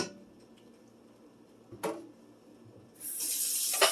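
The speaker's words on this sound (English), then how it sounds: "Now I'm going to drain and rinse my Green Giant mixed vegetables" Canned Green Giant mixed vegetables being drained and rinsed at a kitchen sink: a quiet stretch with one brief clatter, then tap water runs steadily for the final second.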